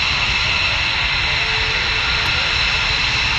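Loud, continuous roar of an aircraft engine at the Dayton airshow, a steady broadband rush filling the whole stretch with no breaks.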